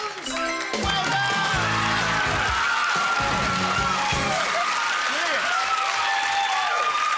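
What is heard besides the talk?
studio audience applause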